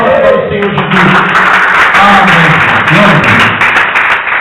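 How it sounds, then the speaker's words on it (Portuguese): A church congregation claps together during worship, the steady applause mixed with loud music and voices. "Palmas para o Senhor Jesus"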